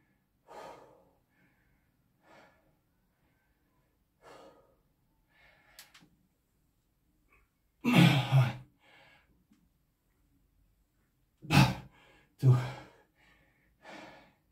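Heavy, labored breathing after sets of barbell squats and weighted dips: a few quiet breaths, then loud sharp gasps and exhales in pairs, close to the microphone with brief quiet gaps between.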